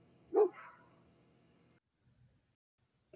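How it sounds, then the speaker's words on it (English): A single neighborhood dog barks once outdoors, fairly distant and faint, then fades into quiet with a few soft noises after. "Got all the damn dogs in the neighborhood barking."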